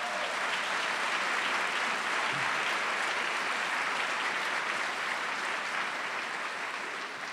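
An audience at a city council session claps steadily in a sustained, even round of applause heard from a moderate distance, holding its level throughout.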